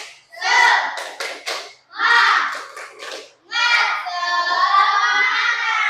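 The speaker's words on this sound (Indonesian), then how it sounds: "Semuanya tepuk semangat." A school class does a rhythmic cheer clap together: several bursts of quick group clapping mixed with children's chanted voices, closing on a long, drawn-out shout.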